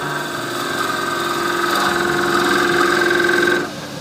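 A wood lathe spins a piece for a wooden shaving brush while a spindle gouge cuts it, giving a loud, steady hum with tonal whine that drops off sharply near the end as the cut stops.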